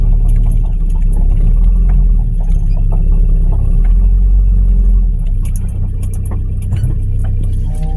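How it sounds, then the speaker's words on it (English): A 1986 Nissan 720 truck's carbureted engine idles a little high, giving a steady, close, low rumble that runs unbroken with no one speaking. "here it's idling a little bit higher than I'd be happy with and everything"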